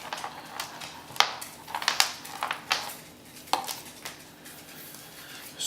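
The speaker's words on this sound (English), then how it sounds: "Let's get rid of that packaging." Skullcandy Fix earbuds being freed from their packaging: a series of sharp plastic crackles and clicks at irregular intervals, close up, with no talking.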